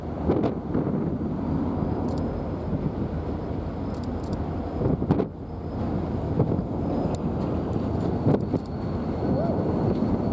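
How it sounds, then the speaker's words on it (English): Strong wind blows steadily across a microphone beside a railway line in Irondale, Colorado, a dense roaring rush with gusting buffets that rise and dip throughout, loud and close with no clear pauses. "It's a windy day at Irondale, Colorado"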